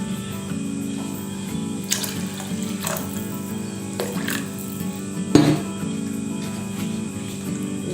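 Steady water running and trickling throughout, with a few soft clinks and one sharper knock near the end; no talking.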